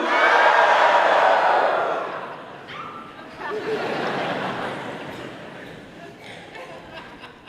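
A crowd at a TEDx talk screams and cheers on cue, a loud roar of mixed voices that swells, dips briefly, then surges again before tailing off.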